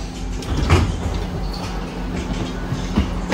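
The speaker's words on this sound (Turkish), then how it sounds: "Metro gidiyor." A metro train rumbles steadily with low, continuous rolling noise and a few clattering bumps, fairly close, with no voices.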